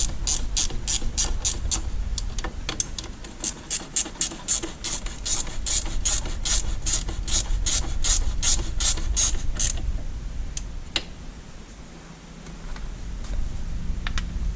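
A hand ratchet tightens bolts on the rear CV axle of a 2006 Yamaha Kodiak 450 ATV, giving long runs of rapid, crisp close-up clicks that pause, resume and then thin out near the end.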